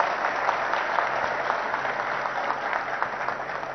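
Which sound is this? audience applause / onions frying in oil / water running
audience applause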